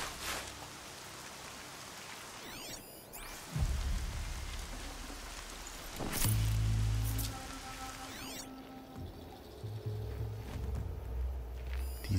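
Steady rain falls at night in the video game Horizon Zero Dawn, a constant wash of drops with occasional low rumbling thuds and game effects layered over it, fairly close and moderately loud, with no talking.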